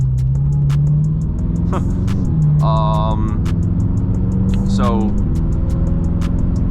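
A BMW M6 engine drones steadily from inside the cabin on a rainy night, a constant low hum with rising pitch sweeps as it revs, under brief talk and faint regular ticking.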